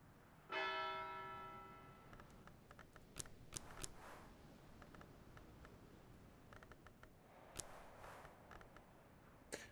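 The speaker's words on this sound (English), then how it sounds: "Bells?" Bells ring in the video game Book of Hours: a clear bell strike with long ringing harmonics fades out over a few seconds, followed by scattered faint clicks and soft taps, with no talking.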